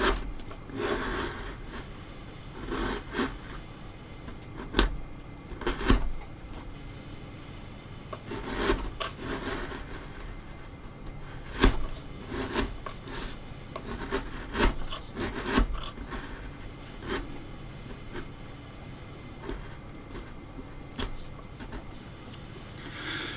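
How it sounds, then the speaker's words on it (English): A small hand chisel carves a wooden dragon figure up close, with repeated scraping and rasping strokes and sharp intermittent cuts at an irregular rhythm, no talking. "with something like with a little chisel like I was doing there, just because I like the sound of the wood"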